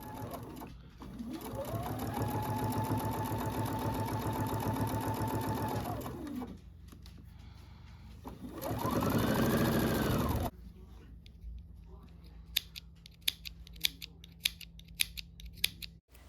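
Domestic sewing machine running steadily for a few seconds, pausing, then making a shorter second burst while a bobbin is emptied on a rag quilt project, followed by quiet clicks and small handling taps.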